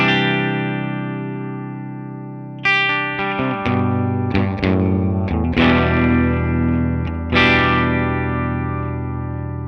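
Electric guitar through an AmpliTube 5 California Tweed amp simulation set at the edge of breakup, ringing sustained chords followed by a run of picked notes and strums with distortion and echo, played alone.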